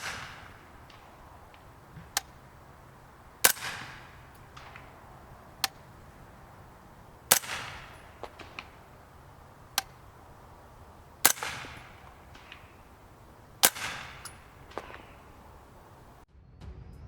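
A CMMG Resolute 200 Series 9mm carbine firing 158 grain Fiocchi rounds at a range, each sharp report spaced a second or two apart and followed by a faint, distant bullet impact on the backstop, about eight shots in all.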